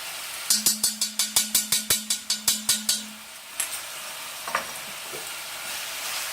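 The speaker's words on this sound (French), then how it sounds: "Et donc, je remue." Sliced ginger stirred in a hot wok for a quick beef and onion stir-fry: a rapid run of about a dozen sharp, evenly spaced scraping clacks over a low sizzle, then a couple of fainter knocks as the stirring slows.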